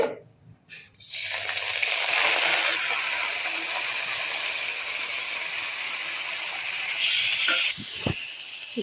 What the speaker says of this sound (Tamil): கீரை போட்டாச்சு ஒரு வதக்கு வதக்கிடலாம்